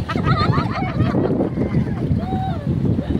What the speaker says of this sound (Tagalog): balik muna kami sa tabi kasi ano, lakas ng alon